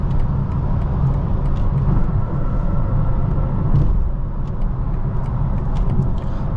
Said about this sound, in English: A little tip of the throttle and you're going.